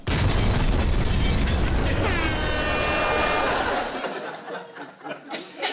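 A loud explosion jingle sound effect for a "truth bomb" segment on a BBC Radio 4 stand-up comedy show gives a big booming blast with a ringing sweep. Brief chuckling is heard as it fades.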